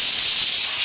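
A pressure cooker with a slightly faulty whistle lets out loud, steady, close steam that hisses continuously while dal cooks.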